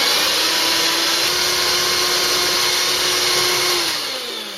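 An electric hand mixer beats egg whites toward soft peaks for a Japanese cheesecake, a loud, steady high whine that holds evenly and then drops in pitch and level near the end.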